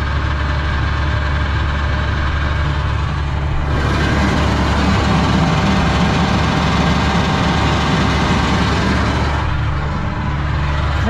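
Heavy engine running on a hay grinder while its tub turns, a loud, steady low rumble that swells louder and harsher midway before easing back, no voices.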